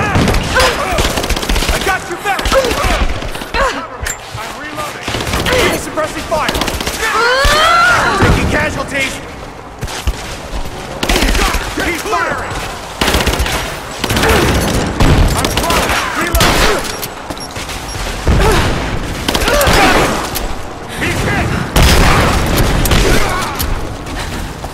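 Rapid gunfire bursts and heavy weapon blasts in the action game Rise of the Tomb Raider, loud and dense throughout with booms and mechanical clatter, a voice speaking over the combat.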